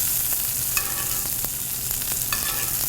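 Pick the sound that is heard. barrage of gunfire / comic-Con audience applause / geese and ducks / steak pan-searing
steak pan-searing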